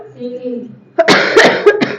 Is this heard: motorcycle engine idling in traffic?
no